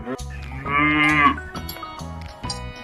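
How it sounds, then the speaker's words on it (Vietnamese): A cow gives one loud, sustained moo in the middle, close by, set against a steady plodding music beat that continues before and after the call. "con bò"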